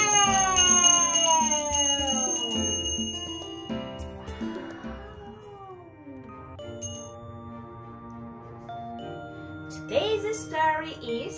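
A bell rings several times with clear, sustained metallic tones that fade and overlap, followed by softer chimes and a brief jingle near the end.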